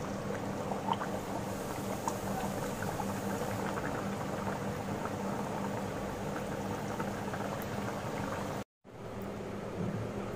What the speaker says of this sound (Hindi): और अब हम इसी तरीके से सभी कचौड़ियां फ्राई कर लेंगे